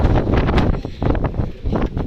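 Strong gusting wind on Girnar mountain buffets the microphone in loud, continuous roaring bursts that swell and dip, with no talk.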